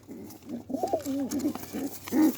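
Soft, throaty cooing of pigeons close by, a few rounded low calls rising and falling in quick succession with no talking.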